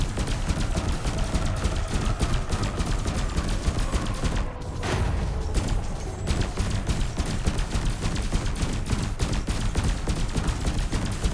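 Rapid, sustained bursts of sci-fi cannon fire from a Fer-de-Lance spaceship in a video game crackle continuously, loud and dense, with one brief lull midway before the barrage resumes.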